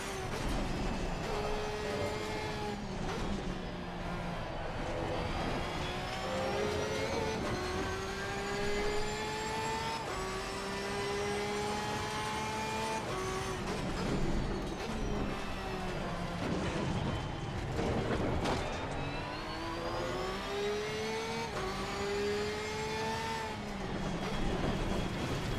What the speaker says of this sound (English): GT3 Porsche.